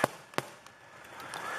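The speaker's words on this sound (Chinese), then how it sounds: "放烟火。" Fireworks set off during a Taiwanese temple procession: two sharp loud bangs close together, then fainter scattered pops over a low crowd murmur.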